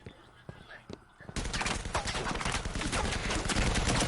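Gunfire in an online multiplayer shooter match erupts after a quiet opening, loud dense bursts of automatic fire and blasts continuing without pause, with faint voices beneath.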